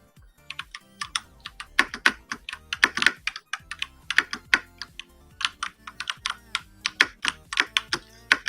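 Rapid, uneven keystrokes on a computer keyboard clatter up close in bursts during a game-coding session, the clicks alone with no voices.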